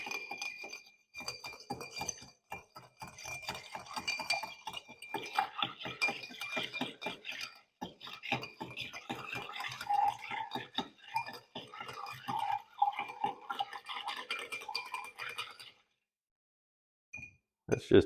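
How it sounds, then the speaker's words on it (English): Cocktail stirred with a bar spoon after a half ounce of lemon juice goes in, a rapid run of light glassy clinks and scrapes that continues for about fifteen seconds before stopping. "Now we're going to stir this down."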